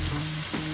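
Garlic and onion fry briskly in a pan, a close, steady sizzle with a brief scrape of stirring partway through.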